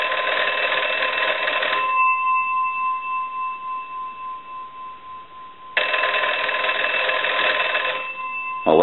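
A crank wall telephone's loud bell, converted from a Wesco wooden set, rings in long bursts, pausing a few seconds between rings, with a brief louder ring starting at the very end.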